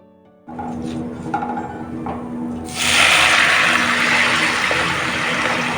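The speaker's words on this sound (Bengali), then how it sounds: "গোটা জিরেটাকে আমি নেড়ে চেড়ে বিশ থেকে পঁচিশ সেকেন্ড ভেজে নেব" Whole cumin seeds fry in oil, stirred for a mutton curry, with a steady close hiss that swells louder partway through after faint clinks at the start.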